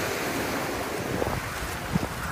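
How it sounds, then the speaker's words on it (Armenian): Sea waves wash onto a beach in a continuous surf roar, with gusty wind buffeting the microphone and a couple of soft thumps near the end; no talking. "այսօր երևի ալիքներն ավելի քիչ է"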